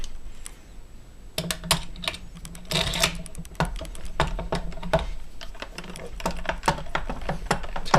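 Sharp metallic clicks and rattles as the stock hardware is fitted and tightened on a Stoeger STF 3000 shotgun, an irregular series of close taps and scrapes, with faint background noise.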